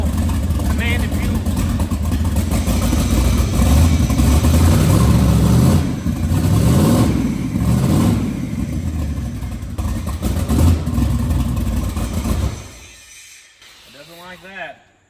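A big block twin turbo Ford Fairmont engine idles with a loud, steady, rough rumble while its idle fuel is leaned out too far. A person talks over it, and the engine drops away near the end.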